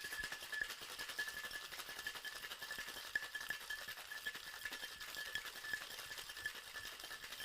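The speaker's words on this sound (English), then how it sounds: "Let's get some ice and get to shaking." Whiskey sour being shaken hard with ice in a sealed two-piece shaker tin, a steady continuous rattle of ice against metal for several seconds, close and fairly faint, with no talking.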